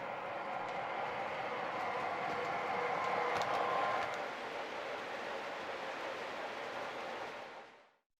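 Model trains run across the Miniature Wonderland layout with a steady, faint rolling rumble and light rail clatter that carries on evenly before fading out at the end.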